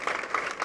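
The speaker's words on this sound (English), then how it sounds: "a big round of applause" Audience applause at a dance research congress event, a short burst of steady, moderately loud clapping from a crowd.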